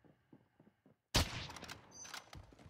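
Gunfire in the Warzone video game: faint quiet taps, then a sudden loud shot followed by a rattling burst of fire with echoing tail, fairly close.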